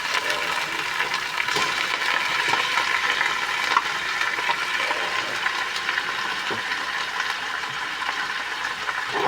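Meat sizzles steadily in a pan with onion and garlic, a loud, continuous frying hiss with occasional stirring clicks and no talk.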